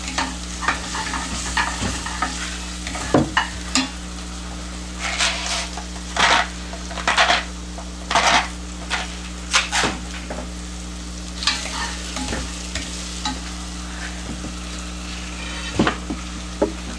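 Spinach, parsley and other vegetables are stirred in a pan with garlic. The steady sizzle runs underneath irregular scraping strokes of the utensil, close and fairly loud.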